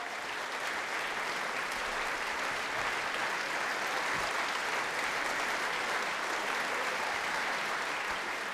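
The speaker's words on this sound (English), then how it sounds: "He leads applause for the orchestra." Curtain-call applause at the opera Trouble in Tahiti: a steady, dense wash of audience clapping holds at even loudness for the whole stretch as cast and conductor Tobias Ringborg bow.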